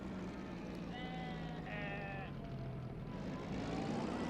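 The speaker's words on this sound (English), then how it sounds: "I'm hoping you could hear that, the sheep sound effects in the background." Two bleating sheep calls in the Assetto Corsa video game, one after another, over a steady low droning hum.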